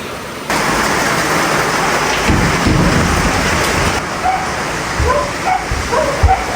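Steady heavy rain pours near a rising riverside, a dense wash of noise throughout with low rumbling surges and a few faint dog barks in the background.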